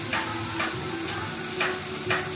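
Cumin and coriander paste with turmeric fried in a pan for a meat curry, giving a low steady sizzle broken by regular stirring scrapes about every half second.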